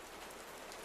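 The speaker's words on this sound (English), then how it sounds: "The workshop had a tin roof, and the rain was working on it steadily" Rain drumming steadily on a tin workshop roof, a dense, bright hiss of drops with no breaks, close and even.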